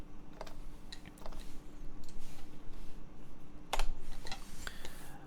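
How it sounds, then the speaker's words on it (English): A keyboard fitted with URSA Topre keycaps is typed on close by, giving irregular soft clacks and occasional sharper key strikes over a faint steady background hum. "let me adjust the mic over and let's try typing on it."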